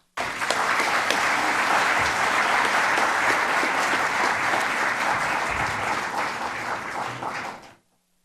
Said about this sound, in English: Let's give another round of applause to the recipients of the Sports Citation Awards.